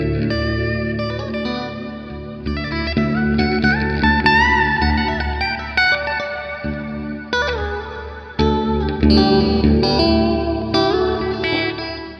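Electric guitar played through a TC Electronic Hall of Fame reverb pedal on a large church setting, sustained chords and melodic notes washing into long spacious reverb tails with chorus-like shimmer, loud and continuous throughout.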